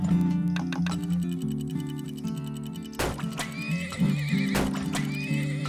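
Horses in the Turmoil video game whinny and neigh over steady clip-clopping hooves and a ticking rhythm, loud and close, with sharp neighs breaking out near the middle and end and no talk.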